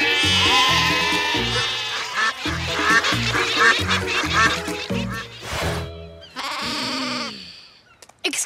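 A toy in its sheep mode plays a loud, repeating electronic bleating with a bouncy rhythm over pulsing low tones, followed by a few longer bleats and a short burst at the end.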